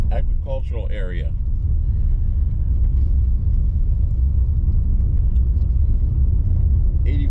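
A car drives on an unpaved road through a farming area west of Homestead in South Miami-Dade, Florida, giving a constant loud low rumble of engine and tyres inside the cabin, with a brief voice at the start.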